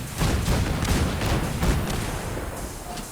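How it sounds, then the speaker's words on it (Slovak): Player gunfire in Fallout 4: a rapid burst of loud, booming shots packed close together, followed by rumbling echoes that fade over about three seconds. "Strieľam."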